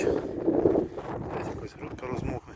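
Steady rushing wind noise buffets the microphone in a field during spring barley sowing with a YuMZ tractor and Demetra seeder, with muffled voices speaking underneath.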